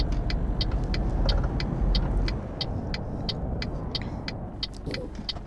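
Mercedes MP4 truck engine in Euro Truck Simulator 2, a steady low rumble with a dip after about two seconds, plus regular faint ticking over it, continuous and fairly close with no talk.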